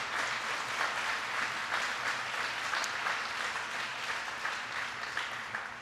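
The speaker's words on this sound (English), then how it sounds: "Please give them a big round of applause." A crowd applauds the governor and First Lady at a clean energy manufacturing event in Wisconsin, a dense, steady wash of clapping that holds at an even level for several seconds without any voices over it.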